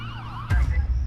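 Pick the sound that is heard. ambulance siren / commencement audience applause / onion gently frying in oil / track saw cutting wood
ambulance siren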